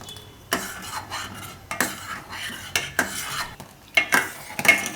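A spoon scrapes and clinks around a pot of cocoa milk thickened with cornflour as it comes to a boil, giving repeated close stirring strokes at an even rhythm with no talk.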